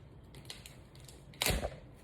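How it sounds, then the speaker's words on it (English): A brand-new package of whipped cream has its seal cut off: a quiet clip, then a short, loud tearing scrape of plastic lasting about a quarter second, with faint handling noises before and after. "Let me just get it open. Cut this seal off."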